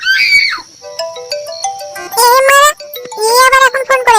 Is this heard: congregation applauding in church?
no